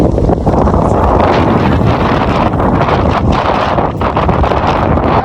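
Loud, steady wind buffets the microphone, a constant roaring rush with gusty rustling and no voices.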